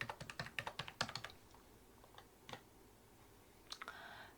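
Typing on a computer keyboard while entering data into ERP software, a quick run of close, quiet key clicks followed by a few scattered taps after a pause.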